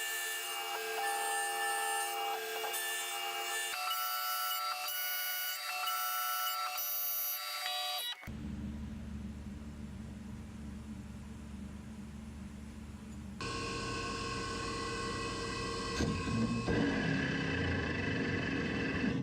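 A Tormach CNC mill machines small bronze washers with a steady whining cut that shifts abruptly in tone several times as the passes change. The sound is close and continuous.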